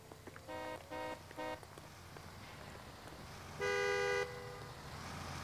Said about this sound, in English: I'm a police officer. You shouldn't honk at me.